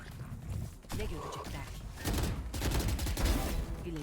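Gunfire in a shooter video game, with dense bursts of rapid shots that swell toward the end, while someone talks over the action.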